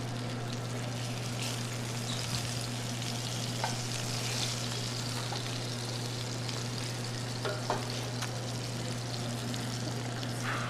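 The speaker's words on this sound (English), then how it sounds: "Put it a little past simmer." Food simmers and sizzles in a pan in a student cooking class, a steady close frying hiss with occasional stirring clinks and a constant low hum throughout, no talking.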